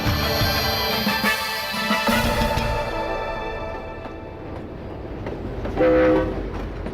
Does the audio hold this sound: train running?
yes